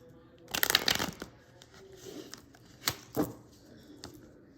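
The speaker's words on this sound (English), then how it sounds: "Let's see if I can shuffle these." A deck of cards being riffled and shuffled up close, a rapid fluttering burst followed by a few softer snaps and taps.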